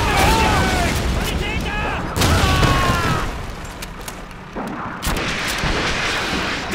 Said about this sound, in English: Machine gun MG 42! Up on the second floor! Left side!